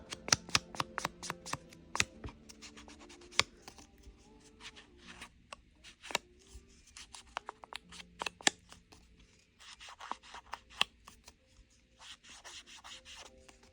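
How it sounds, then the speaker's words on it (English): Paper edges are distressed by hand during papercraft, producing repeated dry scratching and rubbing strokes in uneven bursts, close and crisp with short pauses between. "I'm just gonna distress the edges a little bit before I glue it down."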